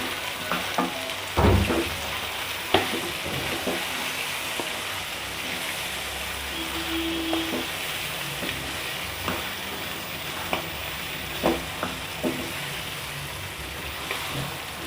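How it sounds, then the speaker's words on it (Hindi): Chicken and potato pieces for a curry are stirred with powdered spices in a hot pan, giving a constant loud frying hiss with scattered scraping knocks from the spoon. "पाउडर मसाले डाल के इनको हम अच्छी तरह से मिक्स करेंगे।"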